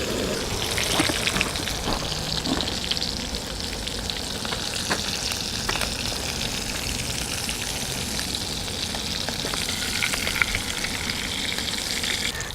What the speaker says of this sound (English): But this perch is looking really good. That butter is frying up nicely.